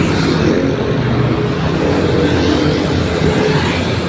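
Road traffic flows without a break, a loud continuous rumble of passing cars and engines close by, with no voices.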